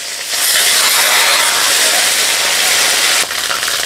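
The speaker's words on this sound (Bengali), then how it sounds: "অল্প জল দিলাম।" Water poured into hot oil spiced with chillies, bay leaves, ginger and cumin bursts into a loud, close, broadband hiss of steam that holds steadily for a few seconds, then dips slightly.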